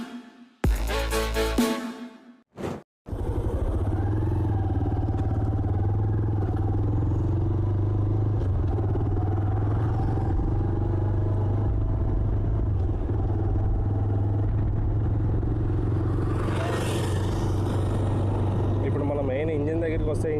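A TVS Raider 125cc motorcycle on a test ride gives a steady engine and exhaust drone with a constant low hum, after a few brief bursts of clatter at the start.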